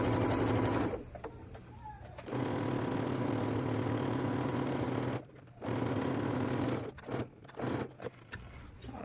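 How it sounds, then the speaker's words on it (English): A sewing machine runs in fast bursts while edge stitching a pleat on a shirt, the steady mechanical whir stopping and restarting several times, close and fairly quiet. "So that's the part that we're going to edge stitch."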